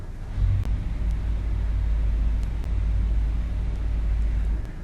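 A deep, sustained 32-foot low C pedal tone from a pipe organ's sous-basse stop, more felt than heard, rumbling steadily like rushing air beneath faint background noise.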